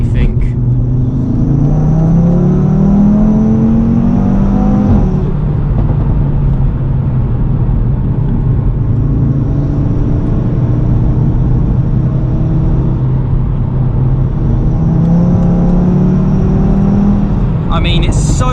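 Stage 2 Audi RS3 driven on a mountain pass, loud in-cabin engine drone rising through the gears with climbing tones and shift breaks, steady and continuous throughout.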